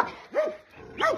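A massive male Caucasian shepherd dog barks twice, deep and close, each bark a short loud burst about half a second apart.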